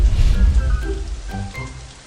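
Rain falls while someone is caught out in it, a dense close patter of drops hitting the ground with a steady wash of noise and no voices.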